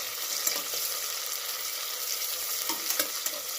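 Sliced onion fries in oil with peanuts and curry leaves, a dense steady sizzle punctuated by a few sharp stirring scrapes and pops, close and fairly loud with no talking.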